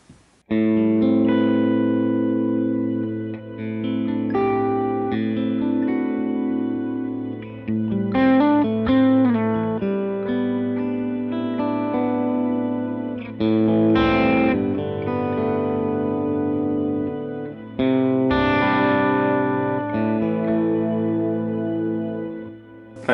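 Electric guitar through an amp modeler preset emulating a Matchless DC30, chiming chords and single notes ringing with echo and chorus, heavily processed tone, played continuously and loud with no talking.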